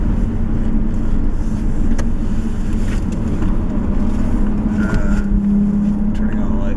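A car drives along and takes a left turn, its engine giving a steady, close interior drone with road rumble throughout and no clear change in pitch.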